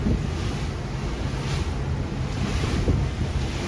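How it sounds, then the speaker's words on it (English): Choppy waves slap a small boat heading into a strong southeast wind on the Intracoastal Waterway in North Carolina, with steady roaring wind buffeting the microphone and a constant rush of water close by. "we're against the wind. And look at these waves."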